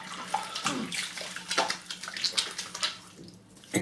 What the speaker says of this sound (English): just washing off the excess off my fingers